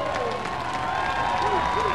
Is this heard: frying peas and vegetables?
no